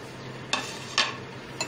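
Spices are stirred into a potato mixture for aloo chicken tikki, three short, soft scraping strokes close by over a quiet background.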